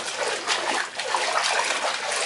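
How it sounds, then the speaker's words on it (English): A hand agitating bath water to work up bubbles, with close, busy sloshing and splashing that comes in quick repeated strokes and continues for a couple of seconds without talk. "you just get your hands in there and you kind of go like this, right on top of the water, and it creates a lot of bubbles"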